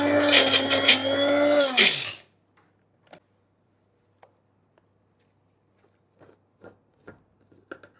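A kitchen grinder whirs as it grinds nuts for raw carrot halwa, a loud dense motorised roar lasting about two seconds before it winds down and stops, followed by faint scattered clicks.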